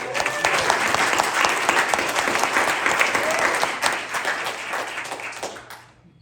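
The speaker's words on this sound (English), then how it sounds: "We'll get a round of applause for her." A crowd at a Hochatown town meeting gives a short round of applause, dense clapping that holds steady before tapering off, with no talking over it.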